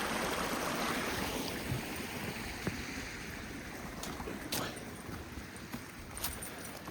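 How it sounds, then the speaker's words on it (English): A steady, broad rush of falling water fills the scene, continuous and fairly distant, with a few faint clicks and knocks over it. "Let's look at the waterfall."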